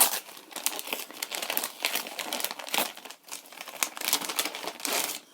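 Wrapping paper crinkles and rustles steadily as a birthday gift package is unwrapped, close and continuous with occasional tearing, and no talking over it.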